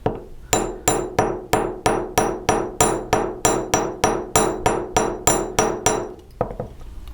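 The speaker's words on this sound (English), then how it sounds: "I'm just going to hammer out the last couple millimeters of this wire." A small chasing hammer flattens wire on a steel bench block about fourteen times in a steady, even rhythm, each blow ringing briefly; close and loud.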